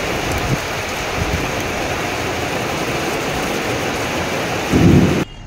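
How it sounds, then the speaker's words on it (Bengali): Heavy rain pours steadily in a strong wind, with thunder rumbling through a dense, unbroken roar and a brief louder surge near the end. "ভালোই জোর বৃষ্টিটা হচ্ছে, বলে বৃষ্টির আওয়াজ শুনেছো কত জোর বৃষ্টিটা হচ্ছে।"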